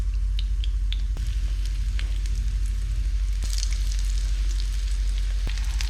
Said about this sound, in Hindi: तो देखिए ये किस तरह फ्राई हो रहे हैं